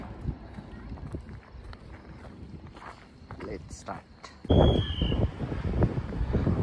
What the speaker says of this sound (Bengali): প্রচন্ড হাওয়া, প্রচন্ড জোরে হাওয়া।